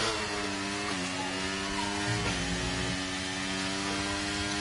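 Racing car engine heard onboard at sustained high revs, a loud, steady harmonic drone that dips briefly and climbs again, with no gear change, during a sim race at the USA Grand Prix.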